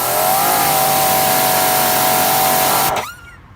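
A Greenworks Pro 2300 electric pressure washer's motor drones loudly and steadily at close range, then cuts off abruptly near the end, leaving near-silence, with no voices.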